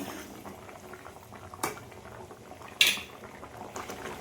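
Fish curry with papaya simmers in a pot with a continuous, steady bubbling. Two brief metallic clinks of a utensil stand out above the boil.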